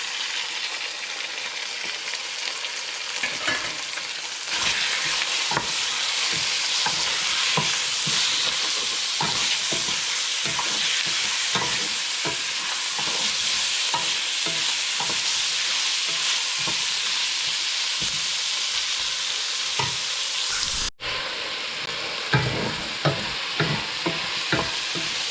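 Chicken frying in a pan, sizzling steadily while a utensil stirs and scrapes in repeated rhythmic strokes, close and alone with no talking.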